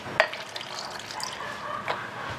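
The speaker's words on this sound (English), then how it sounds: "And then I'm just going to put some water in here and then fill my glass up." Tap water running and splashing into a glass, a short bright burst at the start and another near the end, with a soft continuous trickle in between, close and fairly quiet.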